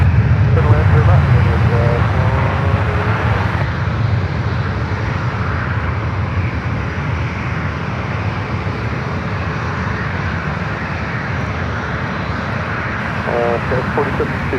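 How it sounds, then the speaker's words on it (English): A SkyWest CRJ 200 regional jet roars at San Francisco airport, a loud, steady engine rumble lasting throughout, heaviest at the start, with brief radio chatter and voices faintly underneath. "SkyWest CRJ 200. Start heading to Arcata"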